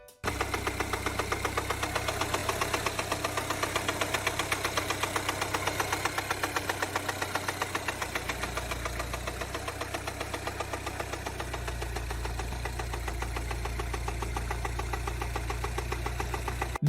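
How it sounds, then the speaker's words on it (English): A car engine idles with a steady, rapid rhythmic knocking from inside, close and constant throughout, with a low vibrating hum underneath and no talk. "the engine was making a knocking noise"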